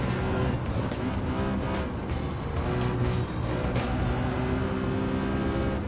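A 2017 Nissan GT-R Nismo supercar races in Gran Turismo 7, its engine roaring steadily. Throughout, the drone stays loud and dense with rising and falling revs, blended with the sound of other cars on track.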